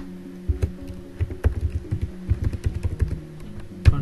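Quick, uneven keystrokes on a computer keyboard as a code comment is typed into an HTML file, close and fairly loud, with irregular bursts of clicks and short pauses and no voices.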